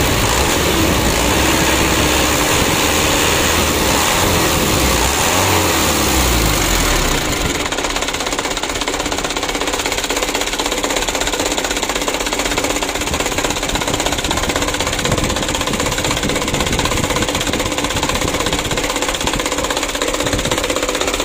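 A small engine clogged with jelly-like oil sludge, idle for three days, fires up and is revved. It runs in a loud, rough, knocking clatter that continues steadily throughout, with no voices.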